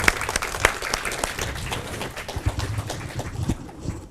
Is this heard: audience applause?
yes